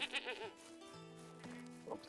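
Sheep in a medieval farming game bleat in several short wavering calls near the start, followed by softer lowing tones and a brief call near the end, with no talk.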